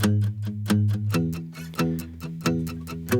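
Guitar strumming from an iPhone recording and a studio recording layered together, a steady run of bright chords with a clear rhythmic pulse and some palm-muted strokes.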